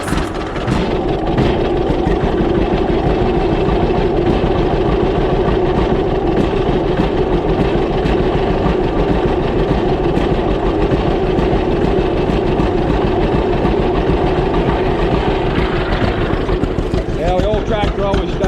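An old tractor's engine idles steadily through a cold morning, a loud, constant low rumble with a slight throttle change near the end.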